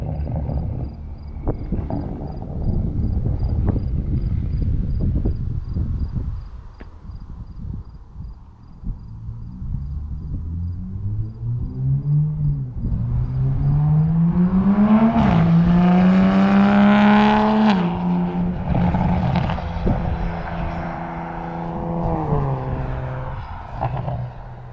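Toyota MK5 Supra with a Tomei Type-R single exit exhaust in sport mode, heard from outside: a deep idle burble, then rising revs into a loud raspy roar that climbs and holds before easing off.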